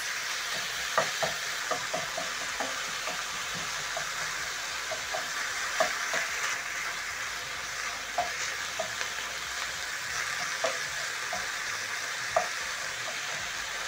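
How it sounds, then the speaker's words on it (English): Minced beef frying in a pan, a steady broadband sizzle with light spatula scrapes and taps at irregular intervals as the meat is broken into small pieces; no voices. "make sure to use your spatula to break down the minced meat into little pieces as it cooks"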